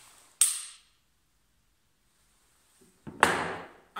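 Two sharp pistol shots at an indoor shooting range during draw-from-holster practice, a crisp crack followed by a long quiet gap, then a second loud report with faint handling noise just before it.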